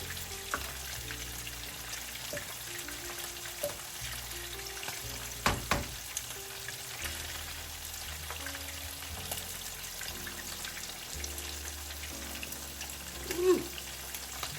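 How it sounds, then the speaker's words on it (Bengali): Oil sizzles steadily in a frying pan while something softened cooks, a continuous close hiss with a few louder clattering bumps, no talking. "এখন আমি এতে দিয়ে দিব তেল দিয়ে দিলাম তেল"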